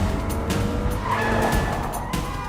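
A car accelerates hard during a chase, tires skidding and squealing in one loud, continuous rush of engine and rubber with no pauses.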